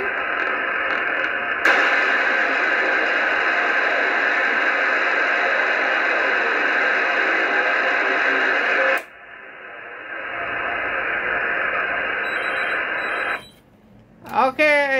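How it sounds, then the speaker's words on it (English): A weak single-sideband amateur radio voice signal relayed through the RS-44 satellite, steady hiss and garbled speech-like tones for most of the stretch, ending in static bursts and tuning sounds. "it's a really weak signal over here"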